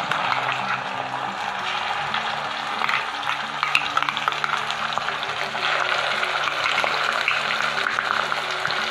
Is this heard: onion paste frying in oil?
yes